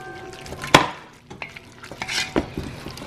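A roux with green onions is stirred in a pot in a home kitchen, with a sharp spoon clack against the pot, then soft scraping strokes and a faint sizzle, close and fairly quiet, with no talking.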